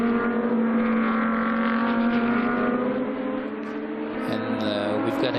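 GT2 race cars, including a leading KTM, roar around the Dijon circuit, a loud sustained engine drone with steady harmonic tones that shifts as cars pass, with faint commentary-like voices underneath.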